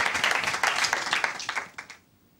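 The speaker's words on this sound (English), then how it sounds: "Round of applause for Clark!" Audience applause for a boy named Clark at a summer school performance, a dense burst of clapping that fades out after about two seconds.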